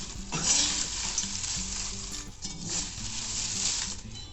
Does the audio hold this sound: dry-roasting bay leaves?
yes